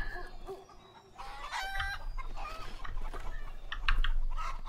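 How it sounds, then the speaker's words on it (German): Chickens cluck and squawk in the video game A Way Out, close and busy over a low rumbling farm ambience, with a few brief rising squawks. "Ich werfe Hühner."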